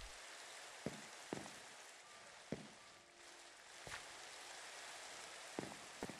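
Steady rain falls in the game Minecraft, a soft continuous hiss with a few sharp dripping or tapping accents scattered throughout.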